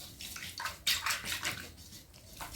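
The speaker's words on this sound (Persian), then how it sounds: "آرد و آب رو کم کم اضافه می کنم." Water poured gradually into sifted flour in a large mixing bowl while making samanu, an Iranian wheat-sprout pudding, gives off close, uneven splashing and sloshing bursts.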